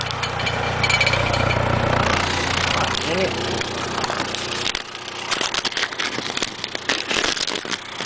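Car engine idling steadily during an O2 sensor test, a low, even rumble close by that shifts partway through as handling noises and clatter take over.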